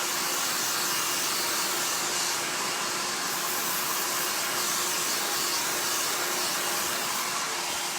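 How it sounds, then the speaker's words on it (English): A hair dryer blows continuously at close range while styling a man's cut hair, a steady loud whooshing rush of air with a faint whine. "using the heat of the hairdryer to manipulate that and put it into place"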